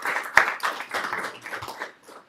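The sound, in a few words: audience round of applause for outgoing member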